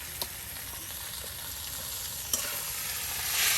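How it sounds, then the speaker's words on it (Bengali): Chopped greens stirred into diced onion and garlic frying in oil, with salt added, cooked outdoors in a rural kitchen; a steady close sizzle runs throughout, with a couple of sharp utensil clinks and a brief swell of hiss near the end. "দেখুন একদম সব কিছু তেলের সাথে মিক্স করে দেওয়া হচ্ছে।"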